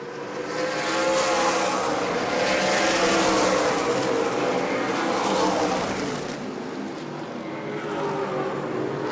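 A pack of Super Late Model race cars roars past at New Smyrna Speedway, engines screaming loud and continuous with a rising and falling drone as they circle the track.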